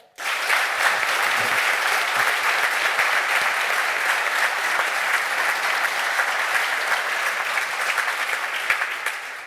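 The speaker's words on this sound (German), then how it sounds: "Einen großen Applaus bitte für Manuel Baum." A studio audience at a German sports talk show applauds a former head coach, a dense, loud, sustained round of clapping lasting several seconds before tapering slightly at the end.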